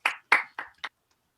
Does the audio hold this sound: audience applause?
yes